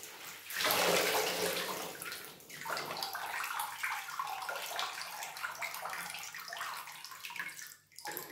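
Water pours steadily onto a plant being watered, a soft continuous splashing and trickling that swells and then thins, with no talk.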